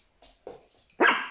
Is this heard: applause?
no